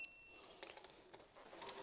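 A digital multimeter set for continuity gives a short, high steady beep as its probes touch during model railway track testing, faint and brief in a quiet room.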